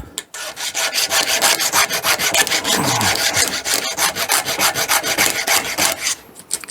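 A chainsaw chain is sharpened by hand with a file, giving a fast run of rhythmic rasping strokes, loud and close, repeated back and forth with brief pauses.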